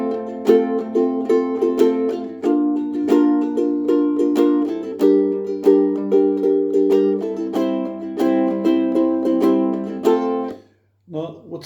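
Bright plucked chords from a ukulele strummed in a steady repeating four-chord pattern, played alone and close, with a brief pause near the end.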